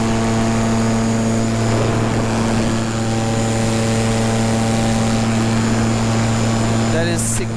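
An electric paramotor propeller runs at full throttle as a loud, steady drone with a strong constant hum and whine held for the whole stretch, ending with a brief rising electronic chirp.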